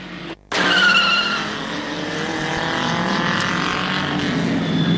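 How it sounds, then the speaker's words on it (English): A 1974 Chevrolet Camaro race car at Mallory Park skidding under practice, a loud sustained tire squeal with a high engine whine that starts abruptly after a brief cut and fades slightly. "Once again, Bob Ridgard, Chevrolet Camaro, car 24, fighting with the wheel."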